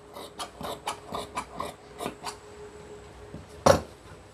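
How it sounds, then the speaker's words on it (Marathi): Scissors cutting designer shirt fabric, a rhythmic series of close crisp snips repeating about every quarter second, then a pause and one louder snip near the end, with no talking. "हे सर्व व्यवस्थित कापून घ्यायचं आहे."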